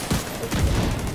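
A game turret opening fire on players, a burst of rapid, loud gunfire shots crackling close by for about a second, with no voices over it.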